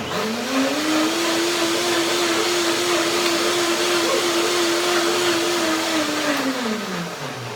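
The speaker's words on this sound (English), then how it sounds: "To make it a little bit more creamy, just a short blending, a second blending." Blender whirring through a second short blend of thyme cream salad dressing, a loud steady motor whine that ramps up, holds for several seconds and winds down at the end, with no speech.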